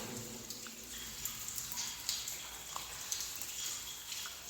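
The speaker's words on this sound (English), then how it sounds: "If you listen carefully, you can hear all kinds of dripping." Scattered water drips echo inside an abandoned train tunnel, a few soft, irregular plinks heard over a steady low hiss of damp air.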